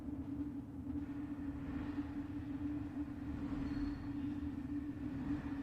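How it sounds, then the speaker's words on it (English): A train voyage sound effect layered into a lo-fi track: a soft, steady rail rumble with a constant low hum rolls on evenly, fairly faint, with no voices. "See how you can hear it? The train. And then this one is called a train voyage."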